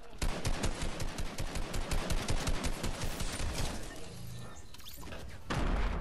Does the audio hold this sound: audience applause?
no